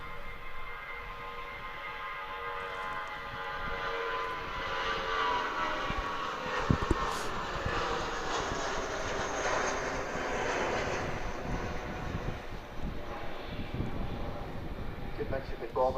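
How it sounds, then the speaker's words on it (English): A 20-year-old British Airways jet departs Manchester Airport in wind and rain, its engines building to a broad distant roar that swells and rumbles, with a voice talking over it. "Did mention before that particular departing aircraft is 20 years old"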